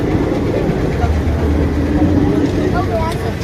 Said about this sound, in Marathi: ट्रेन गेली